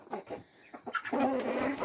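Three-month-old chickens and young roosters make soft clucks and chirps, quiet and close, with a brief murmuring trill near the end.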